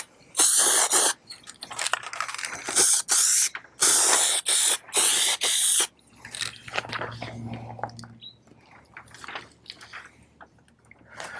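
Short, loud hissing bursts from an aerosol primer can sprayed during car paint repair, six or so blasts in the first half, followed by quieter handling noises and faint rustling.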